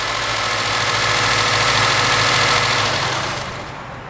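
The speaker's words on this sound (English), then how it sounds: "The engine also doesn't sound very good." A used car engine with an overheating fault, combustion gases leaking into the cooling system, idles roughly with a steady, loud, dense rumble and hiss that fades slightly at the end.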